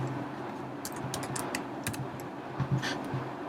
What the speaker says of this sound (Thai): ในช่องของ URL เนี่ยนะครับก็สามารถจะพิมพ์นะครับเข้าไปได้เลยนะครับ localhost